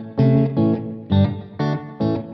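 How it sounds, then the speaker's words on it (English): Guitar played through a Walrus Audio Slöer reverb pedal on a short room slapback setting: five loud, clean chord strums in a steady rhythm, each with a brief ambient tail and no talk. "Use those little short delays to be more like a room slapback."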